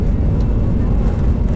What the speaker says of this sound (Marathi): फायनली विमान नव्हे रनवेला लागले आणि जोरात पळायला लागले